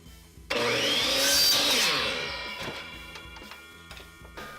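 A power saw cuts off a piece of wood to make two backers for wooden map hangers: a loud motor whine starts abruptly, holds through the cut, then winds down into fainter clatter and ticks.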